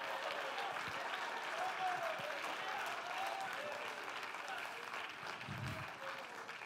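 A church congregation claps along during a worship service, a steady wash of many hands heard from a distance, with voices singing and calling out over the top.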